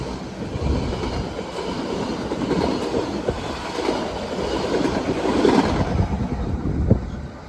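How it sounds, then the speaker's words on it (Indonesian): Kutojaya Selatan passenger train pulling into Sitarja station in Indonesia, a steady rumbling roll of wheels and carriages with clickety-clack and occasional sharper metallic knocks, loud and continuous throughout. "dari kejauhan udah kelihatan lampunya kereta api Kuto Jaya Selatan"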